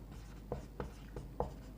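Chalk or marker writing on a classroom board during a matrix maths lesson, four distinct scraping strokes at a steady rhythm, close and fairly quiet, with no talking.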